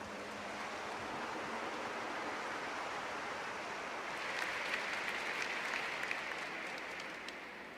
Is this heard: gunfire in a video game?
no